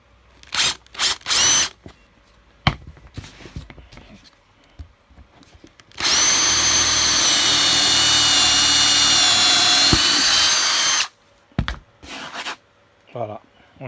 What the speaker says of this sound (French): mèche 12 mm. On va percer les trous.